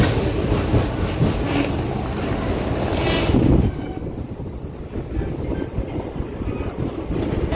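Passenger special train 07034 Mysuru–Kakinada rolls out of Nalgonda station with a continuous loud rumble, rattle and wind buffeting, heard from on board. Partway through, the noise drops to a quieter, steady clatter.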